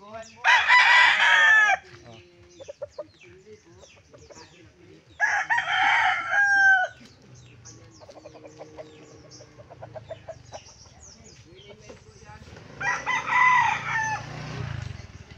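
Several loud rooster crows ring out close by, separated by gaps filled with clucking hens and a faint voice.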